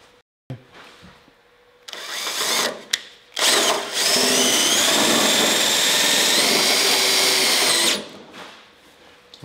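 A power drill drives self-tapping screws into car sheet metal during a rocker panel repair, with short revving bursts followed by a long, loud, steady whine that winds down at the end.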